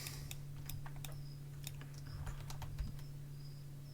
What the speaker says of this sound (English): I can press L on the keyboard